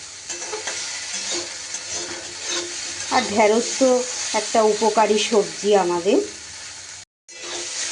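Okra being fried and stirred in a pan on a low flame for an okra and potato fry, a steady sizzle with scraping stirs running under a woman's speech throughout.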